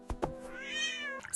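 A cartoon cat in a Kazakh children's animated fairy tale gives one drawn-out, rising-and-falling meow, loud and close, framed by brief thumps before and after.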